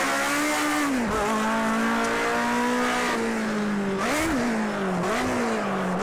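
A rear-wheel-drive car in Project CARS 2 holds a loud, steady engine drone for six seconds, with brief dips and pitch swoops as the driver lifts and blips the throttle, tires squealing as the car rotates, no voices.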